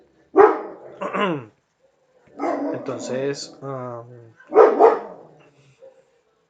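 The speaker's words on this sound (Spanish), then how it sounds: "no sé si escuchan el perro, lo siento" Dog barking nearby during a talk in a restaurant setting, a few sharp barks and yelps mixed with someone speaking Spanish, loud and close in short bursts.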